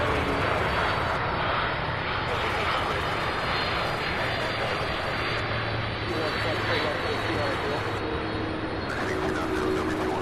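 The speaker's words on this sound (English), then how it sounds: "We get this MD-11." A McDonnell Douglas MD-11 jet airliner at Louisville International Airport roars steadily and loudly close by, a broad continuous engine rumble lasting throughout, with some voices faint beneath it.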